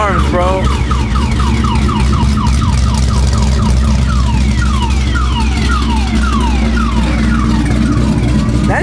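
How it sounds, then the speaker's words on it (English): Car alarms wail loudly and repeatedly in rising and falling sweeps beside a modified 1000 hp Corvette, whose low engine rumble runs steadily underneath the whole time. "He's just setting off the alarms, bro."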